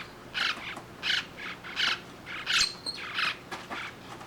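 Week-old Linnie parakeet chicks squawk during hand feeding, giving a series of about seven close, raspy, rhythmic calls in quick bursts, with no talking over them.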